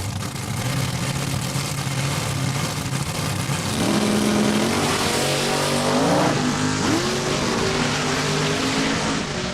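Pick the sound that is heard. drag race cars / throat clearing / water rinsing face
drag race cars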